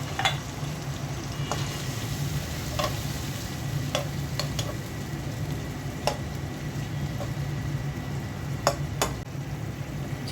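Fried tengra fish curry with green chilies and water sizzles and bubbles in a pan, a steady close frying hiss broken by occasional sharp clicks and taps.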